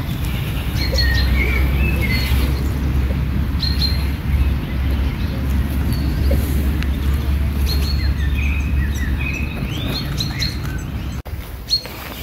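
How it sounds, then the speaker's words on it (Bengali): A dense chorus of many birds chirps and trills throughout a forest in Soğuksu National Park, Turkey, with overlapping calls near and far over a low steady hum. "আর চারপাশে শুধু পাখির আওয়াজ,"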